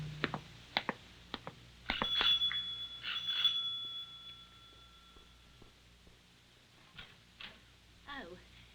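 A bright electric front doorbell rings in a couple of bursts in a radio drama, its tone lingering, followed by footsteps and faint shuffling in a quiet room.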